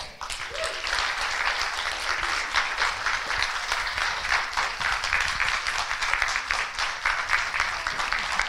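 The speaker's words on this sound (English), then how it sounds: "I'd like you to give a round of applause for our next speaker, Rebecca Hall Gruyter." A room full of people applauding, with dense and continuous clapping that holds steady throughout, and no talking.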